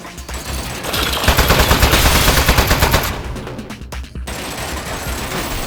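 A turret machine gun in Aperture Desk Job fires a loud rapid rattling burst of about two seconds, followed by clattering impacts and a steady background hum.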